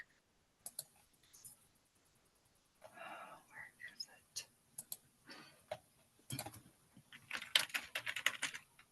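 Keyboard typing as a quick note is written down during a webinar, scattered clicks that start sparse and grow into busier bursts, with faint whispery background sounds.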